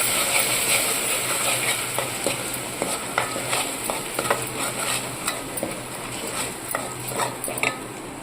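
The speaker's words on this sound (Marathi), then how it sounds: "कमी गॅसवरती आपल्याला हे चांगलं असं भाजून घ्यायचं आहे" Sweet lentil puran filling being sautéed and roasted in a pan on a low flame, a continuous soft sizzle under repeated close spatula scrapes and clinks against the pan.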